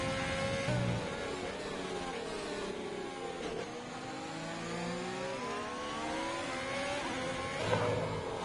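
Race car engines in a sim racing game at the Belgian GP on the Kemmel Straight, a steady high-revving whine with rising pitch sweeps through gear changes, loud and continuous with a second car close by.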